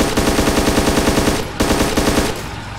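Heavy machine gun fire in the video game ARMA II, two loud, rapid sustained bursts of rhythmic shots close up with a brief pause between them.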